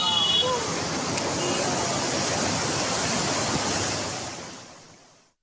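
Floodwater in a residential estate roars as a dense, steady rushing wash across the whole clip, loud and close, before fading out at the end.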